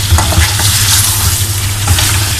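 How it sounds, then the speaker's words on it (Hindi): Chicken karahi masala with black pepper fries on a full flame, giving a loud, steady sizzle throughout with the soft scrape of stirring running through it and no talking. "आग मैंने फुल की है ताकि अच्छा सा भुन जाए ये"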